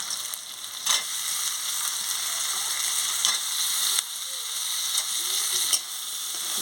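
Crab frying in a spice masala, a constant bright sizzle of hot oil broken by several scraping stirs of a spoon against the pan at irregular intervals.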